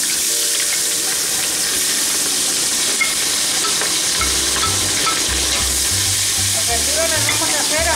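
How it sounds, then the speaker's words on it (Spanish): Vegetables frying all together in a pan of oil just used for browning lamb shanks, giving a loud, steady, dense sizzle and hiss throughout, with a faint low tonal hum joining in the second half. "en ese mismo aceite vamos a freír las verduras, todas a la vez"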